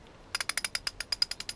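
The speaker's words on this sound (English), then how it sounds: "It's quite a nice ratchet." Socket ratchet spinning freely, a quick run of about a dozen sharp, evenly spaced clicks, close and clear against a quiet background.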